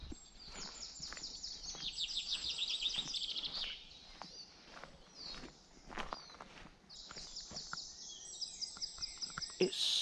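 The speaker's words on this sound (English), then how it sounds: "I can hear the birds in the trees." Birds sing and chirp in trees around a peaceful campsite, in high repeated trills from nearby, while footsteps crunch quietly on the ground below.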